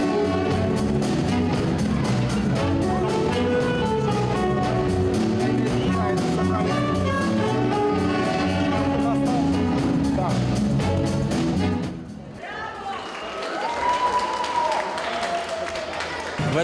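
At the close of a jazz studio's performance of a piece, a crowd breaks into dense applause and shouting over the ending music, then the cheering thins out while scattered voices carry on.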